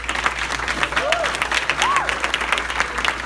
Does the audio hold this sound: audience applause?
yes